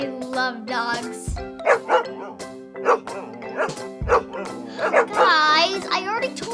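A dog barks in a bright, excitable cartoon-style scene, with several short yaps and bow-wows heard close up over a running music bed and children's lively voices.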